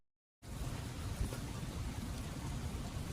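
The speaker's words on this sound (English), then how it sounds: "Little sun and rain." Rain falls steadily outdoors on the Oregon coast route, a dense close patter of drops on surfaces that starts suddenly and continues unbroken at moderate loudness, with no voices.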